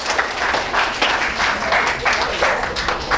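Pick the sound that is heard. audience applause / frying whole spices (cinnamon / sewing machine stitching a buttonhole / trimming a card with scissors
audience applause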